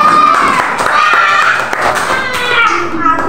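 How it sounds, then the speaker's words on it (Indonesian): Sixth-grade pupils in a classroom clap for a classmate during an entrepreneurship lesson. The claps are sharp and scattered, mixed with lively children's chatter, close and loud. "Wih, tepuk tangan"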